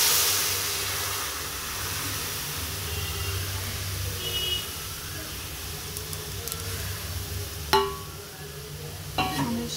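Dal going into hot oil with panch phoron, cumin, hing and turmeric sets off a broad, steady sizzle and hiss that rises and falls, with a couple of sharp clanks of utensils against the pot near the end.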